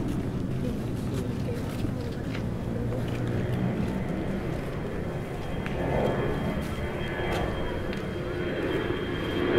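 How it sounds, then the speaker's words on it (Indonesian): An airplane passes over a large park with a jogging track in Jakarta in the afternoon, a broad steady roar that swells slightly midway and stays loud throughout, with no talk over it. "Waduh, pesawat lewat."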